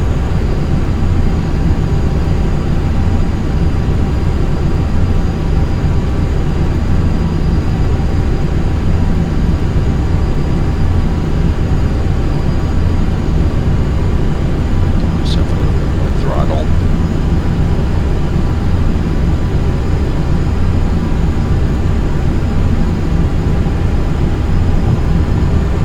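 Steady, loud airplane engine drone in Flight Simulator X during a gentle touchdown with flaps fully extended, a continuous broadband roar holding throughout with a brief faint squeak midway; a voice talks over it.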